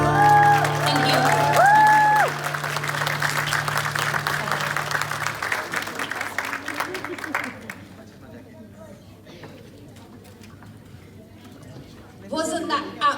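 Audience applause and cheering after a singing and guitar performance at a Brit Asian pageant, loud at first over the closing music, then steady clapping that gradually thins, with a voice briefly at the end.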